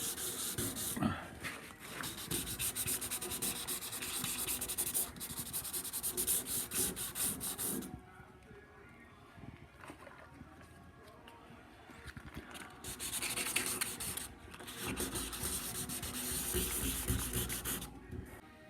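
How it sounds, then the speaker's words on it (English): Wet sanding paint runs on a 1979 Ford F150 with 500 grit paper and soapy water, close rhythmic scrubbing in long strokes, pausing for a quieter gap before resuming. "We kind of sanded over with 500 grit."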